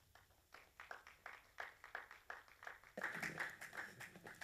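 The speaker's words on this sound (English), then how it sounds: "please give a big round of applause" Faint, scattered clapping from a seminar audience at an academic working session. Steady individual claps build into a denser burst of applause near the end.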